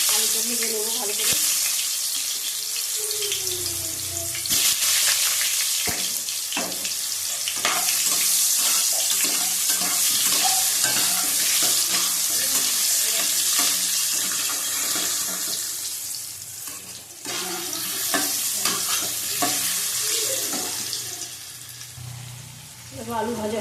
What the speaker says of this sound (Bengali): আলুটা ভেজে নেবো ভালো করে।